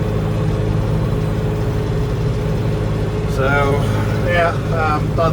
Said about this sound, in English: hop in the tractor, finish getting this area mowed down